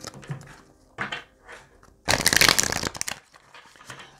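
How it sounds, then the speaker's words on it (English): Tarot cards riffled and shuffled, with soft light flicks followed by one loud, dense riffle burst, then quieter handling; no one talks. "One more shuffle,"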